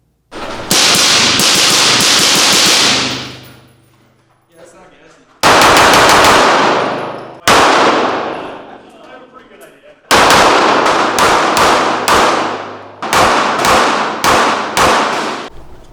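A SIG P211 pistol fires at a shooting range in rapid strings of loud, sharp shots, each crack followed by a ringing echo, with short pauses between bursts.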